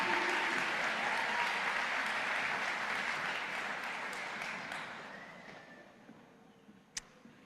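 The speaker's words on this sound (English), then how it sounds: "And how about another wonderful round of applause for our class of 2022 graduates." A crowd applauds the class of 2022 graduates at the Muskingum University commencement ceremony. The dense clapping is loud at first, then thins and fades, and a few scattered claps remain near the end.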